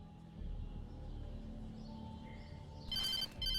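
A telephone rings in the horror video game Alan Wake, two short bright electronic trills near the end over a low, quiet ambient hum.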